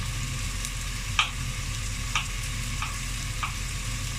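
Steady, close sizzling of onions frying in a pan, with a few soft scrapes and clicks of stirring now and then.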